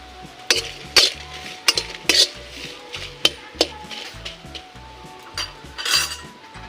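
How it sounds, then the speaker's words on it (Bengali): Dried red chilies stirred and scraped in a frying pan with sharp metallic clinks over a low sizzle, close up, with steady background hum and no talking. "লঙ্কাগুলো সুন্দর ভাজা হয়ে গেছে"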